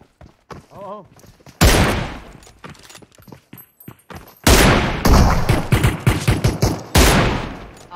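Bursts of rapid video game gunfire from repeated automatic volleys, loud and close, alternating with quieter stretches where people talk and other game sounds play.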